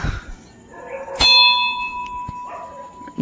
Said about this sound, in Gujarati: જો બેલ વગાડીને પહેલાં આપણે જગાડીએ